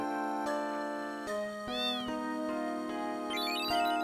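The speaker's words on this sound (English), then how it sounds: "But it's actually a cat." A cat meows in Final Fantasy VIII, one short rising-falling call sounding over sustained game music tones.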